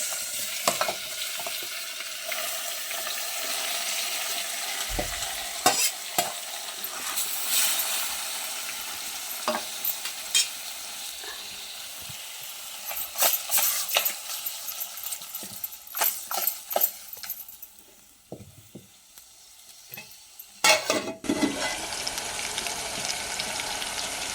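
Chicken pieces sizzle and crackle in oil with browned onion and garlic over a village wood-fired stove, with steady frying and repeated scraping stir knocks throughout, growing louder near the end.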